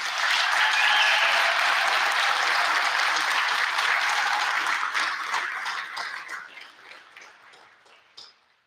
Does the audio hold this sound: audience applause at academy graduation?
yes